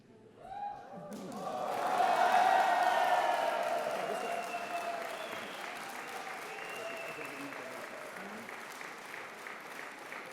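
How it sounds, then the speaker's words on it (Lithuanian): A crowd at a presidential campaign launch bursts into loud applause that swells quickly, then settles into sustained steady clapping filling the hall. "Plojimai ir ovacijos jam."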